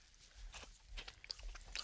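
Quiet, close crunching and biting as a cooked centipede is chewed in the Sonoran Desert, a few crisp cracks in under two seconds with no talking.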